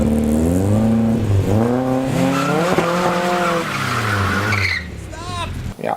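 Tires on a Spitfire racing a Miata screech and skid loudly as the car is dragged backwards, a steady squealing wail under excited talk, then quieter chirps near the end.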